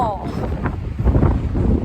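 Strong sea wind at a beach buffets the microphone in a loud, continuous roar with low rumbling gusts, and a brief faint tone at the very start.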